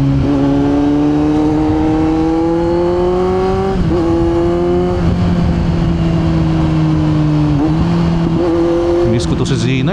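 A Kawasaki Z900 big bike with an aftermarket muffler revs steadily, its exhaust note climbing and dipping in pitch, close and loud throughout.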